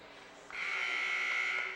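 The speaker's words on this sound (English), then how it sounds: "The buzzer sounds at 13 minutes, 31 seconds" A basketball game buzzer at a college game sounds once as a steady, bright electronic tone, starting suddenly about a third of the way in and holding to the end at moderate volume.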